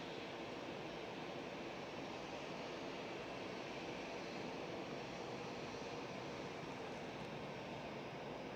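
A fixed-wing airliner on the Milan flight at Cologne Bonn Airport, its engines producing a steady, continuous broadband roar that stays even and fairly distant for the whole stretch, with no voices over it.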